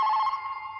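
A telephone rings in a Hindi film scene, a bright electronic trill heard clearly and alone, steady then slightly fading, with no talk over it.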